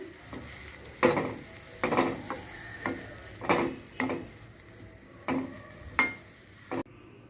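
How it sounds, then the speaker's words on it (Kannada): Grated coconut sautéed with onions in a pan for an elephant foot yam curry, a spoon scraping and stirring in regular strokes about once a second over a soft sizzle, close and clear with no talk. "ತೆಂಗಿನ ತುರಿ ಹಾಕ್ತಾ ಇದ್ದೀನಿ ಇದನ್ನು ಸಹ ಸ್ವಲ್ಪ ಬಾಡಿಸ್ಕೋತಾ ಇದ್ದೀನಿ"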